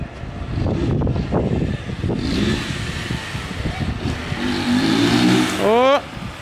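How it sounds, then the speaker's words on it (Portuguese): Motorcycles rev and pass along a quiet residential street, a loud, sustained engine roar rising in pitch as one accelerates away near the end, with people talking over it. "Mas a molecada na motoca, ó."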